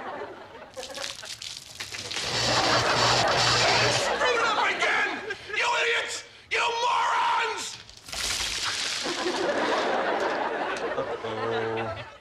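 A crowd below yells and shouts in a loud, continuous jumble of raised voices. The noise swells and drops for several seconds, with brief gaps and a few clearer speaking voices over it.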